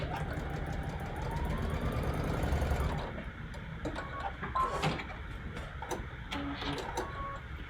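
A sewing machine stitches straight across joined fabric rectangles for a cherry basket quilt block, a steady close mechanical whir for about three seconds before it stops, followed by quieter handling clicks and rustles.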